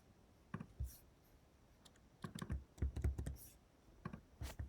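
Keystrokes on a computer keyboard as a merchant ID is entered for a PHP payment webhook, coming in irregular bursts of close, crisp clicks with short pauses between them and no voices.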